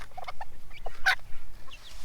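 A hen gives several short, soft clucks followed by one louder, sharper squawk, close by in a quiet setting.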